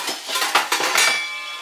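Metal cookware clanks and clinks briefly, a lid set down on a pan with a couple of sharp metallic knocks, then a fading ring.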